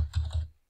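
A few quick keystrokes on a computer keyboard as a verification code is entered, two or three close, soft clicks in under half a second, then silence.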